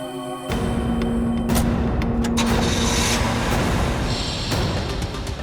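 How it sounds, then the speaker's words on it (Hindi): A car engine runs steadily, loud and close, as a continuous rumble with no voices. "ये गाड़ी चल रही है"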